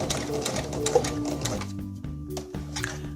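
A sewing machine stitches a chiffon dress hem in short bursts, a close mechanical whirring hum that starts and stops every second or so, with small clicks between runs.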